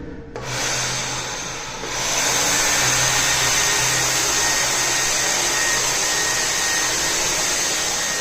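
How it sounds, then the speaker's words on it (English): A handheld blow dryer runs steadily at night inside an RV, a loud continuous airy whoosh that starts after a brief moment and holds for the rest of the stretch. "I got this blow dryer thing."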